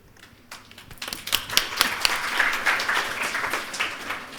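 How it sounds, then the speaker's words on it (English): A live audience claps for a guest doctor after an inspirational talk to medical and dental students, the applause building from scattered claps into a steady, dense round that carries on to the end. "Let us once again join in with a huge round of applause for Dr. Riza"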